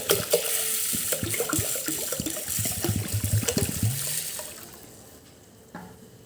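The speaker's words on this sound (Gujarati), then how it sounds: "એક કે બે વખત સારી રીતે એને ધોઈ કાઢવાના" Water splashes and sloshes as mixed sprouted beans are rinsed by hand in a basin, busy at first, then trailing off into quiet drips.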